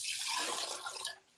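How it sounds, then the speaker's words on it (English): Water poured from a vase of daffodils, splashing steadily for about a second before cutting off, close and fairly loud. "pour my water out"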